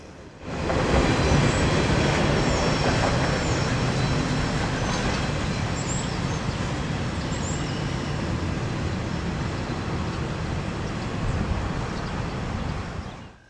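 A mixed freight train rolls slowly over a large double-decker bridge at Fort Madison, Iowa, a loud, steady rumble and clatter of wagons that holds for many seconds, with faint squeals riding above it.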